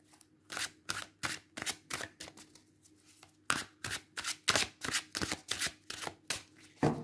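True Black Tarot cards are riffled and shuffled in rapid repeated bursts, crisp close papery flutters in a steady rhythm with short pauses, no voices.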